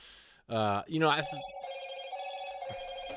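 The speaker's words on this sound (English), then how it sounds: "That's your ringtone." Motorola "Hello Moto" ringtone: a spoken-style jingle burst followed by a sustained bright electronic melody tone holding steady, playing clearly and fairly close at moderate level.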